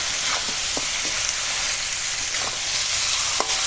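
Chicken with pointed gourd frying in a pan over a wood fire, a constant close sizzle with a few faint stirring clinks and no voices.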